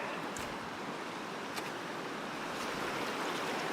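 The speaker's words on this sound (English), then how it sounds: "I think I want to wash this one off here." A quartzite rock rinsed in a cold mountain stream in Washington State, rushing water filling the whole stretch with steady broadband noise, close and loud, with faint splashes on top and no voices.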